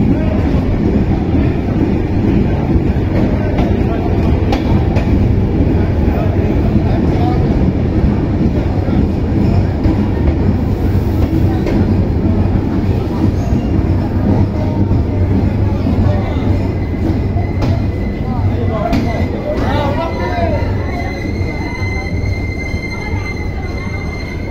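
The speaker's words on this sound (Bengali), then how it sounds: "সীমান্ত এক্সপ্রেস নির্ধারিত টাইমে 7:40 সৈয়দপুর রেল স্টেশনে প্রবেশ করছে।" Simanta Express train pulling into Saidpur railway junction station at night, a loud continuous rumble of wheels and carriages with faint squealing, wind buffeting the microphone throughout.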